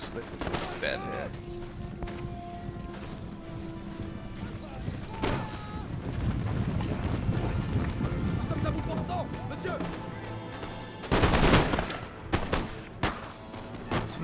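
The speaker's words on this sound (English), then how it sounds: "Some nice shots going in" Musket and cannon fire thuds and cracks through a Napoleon: Total War battle. Scattered shots and a heavier burst near the end sit under ongoing commentary by a man.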